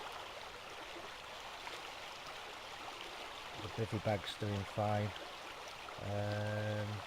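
Loud flowing stream water rushes steadily beside a campsite at night, a constant broadband wash close by, with someone talking quietly over it partway through.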